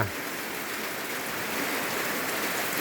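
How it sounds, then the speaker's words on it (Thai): Steady rain pours down on a rice farm in Thailand, a dense, even hiss of drops hitting surfaces nearby that swells slightly louder toward the end. "บรรยากาศฝนกำลังตกพี่น้อง"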